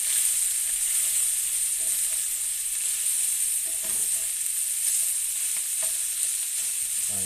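Meat browns in a pan for spaghetti, giving a loud, steady, close sizzle that never lets up, with a few faint scrapes of stirring.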